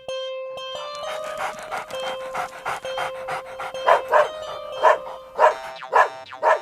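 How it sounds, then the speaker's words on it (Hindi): A dog pants heavily and then lets out a run of sharp, repeated barks, loud and close, with a steady tone humming underneath. "क्यों भौंक रहे हो?"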